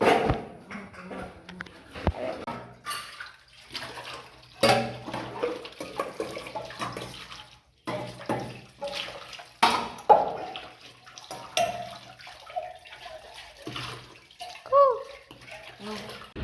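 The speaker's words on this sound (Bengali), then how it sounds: "বাসন মাজছি।" Dishes are washed under a running tap, with intermittent splashing water and clattering over a low background, while people talk in the room.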